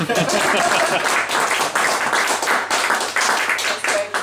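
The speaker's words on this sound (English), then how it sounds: "we have to stop and give her a clap right there" Sustained audience applause fills a busy pub venue at a spoken word literary evening, dense and steady throughout with no pauses, a few voices faintly mixed in.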